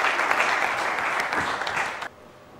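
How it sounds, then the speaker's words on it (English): An audience at a school quiz competition applauds a contestant, a loud, dense wash of clapping that carries on for about two seconds and then stops abruptly. "Let's give a huge round of applause to Anthony."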